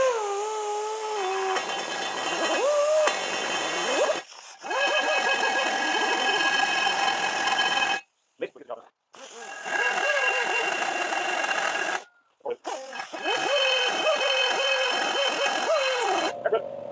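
A rotary burr bit grinds inside a bolt hole on a 3-inch semi trash pump, a steady high-pitched whine running in long bursts with two short pauses where the tool stops, close and loud.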